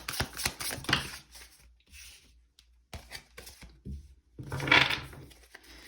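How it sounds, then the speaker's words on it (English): Tarot cards are shuffled in several quick riffling and sliding bursts, close and crisp, with brief pauses between rounds and no talking. "I'm gonna shuffle again."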